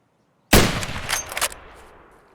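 A single rifle shot cracks out loud and sharp at a distant scav in Escape From Tarkov, its echo rolling away for about a second and then fading into a quiet tail.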